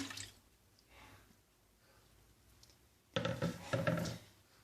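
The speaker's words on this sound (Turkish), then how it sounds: "Bunu tekrar ince süzekten süzüyorum." Tomato juice pours through a fine sieve for a second straining, heard as soft dripping early on and then a louder, splashy run of liquid near the end.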